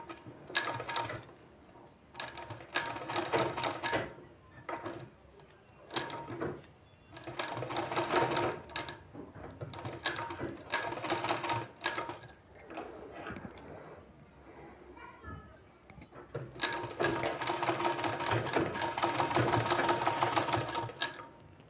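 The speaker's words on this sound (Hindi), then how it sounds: "इसमें इसको इस तरह से रख के और इसमें इसको सिलाई लगा देना है" A sewing machine stitches a fabric strip onto a garment sleeve, running in loud close bursts of rapid mechanical stitching separated by short pauses, while a person speaks in Hindi at times.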